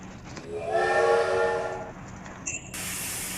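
A train in the Mr Funny Toy Shop video game sounds a loud tonal horn for about a second, then a hiss and clank, followed by a steady bright noise.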